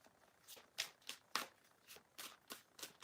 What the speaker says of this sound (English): I've shuffled those cards